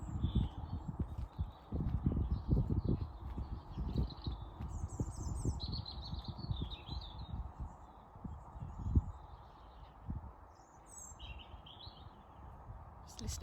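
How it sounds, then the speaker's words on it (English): Finches and other small birds chirp in short bursts in a garden, fairly faint, over a low background of shuffling and handling noises. "Just listening to the birds."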